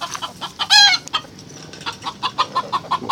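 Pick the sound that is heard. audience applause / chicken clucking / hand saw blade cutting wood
chicken clucking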